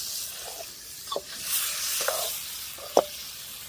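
Salted fish frying in a pan outdoors in the hills, giving a steady faint sizzling hiss with a few soft pops and spits rising above it.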